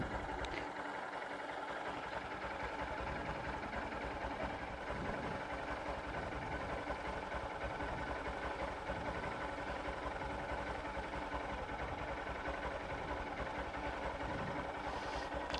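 A motorcycle engine idles steadily in gear after being started, a continuous low, even rumble with a constant drone and no pauses or revving.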